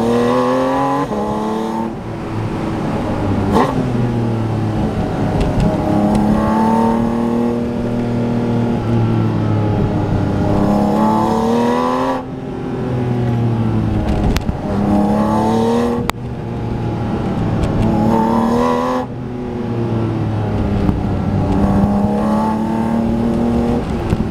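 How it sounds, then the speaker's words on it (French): A Porsche Boxster Spyder RS engine and exhaust wind up to high revs, heard loud from inside the cabin, with several rising pulls broken by brief dips at each gear change and a bright, sustained howl. "le son de l'échappement qui se réverbère sur les côtés, le son d'admission dans l'oreille gauche"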